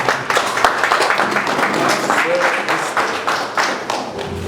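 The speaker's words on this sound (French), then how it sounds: "Assemblée, applaudissements." Wedding congregation applauding during a church ceremony, a steady wash of many hands clapping throughout with a murmur of voices mixed in.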